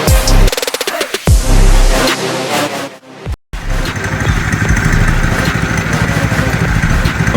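Motorcycles rev and pull away as kids ride out on a family ride, loud engine roar up close with wind buffeting, a brief dropout, then a steady running drone.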